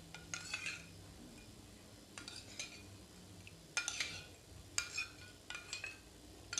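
Cornflour being stirred into water in a small bowl with a metal spoon: a few quiet clinks and scrapes in scattered clusters, faint and close, with no talk.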